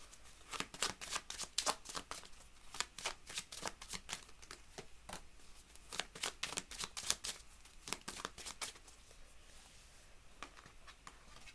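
Tarot cards are shuffled by hand in a quiet room, a soft, close run of rapid papery riffles and slaps in irregular bursts, with no talking.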